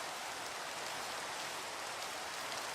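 Steady rain in the Minecraft video game, a dense, even hiss of falling water that fills the whole stretch at a constant moderate level with no breaks or voices.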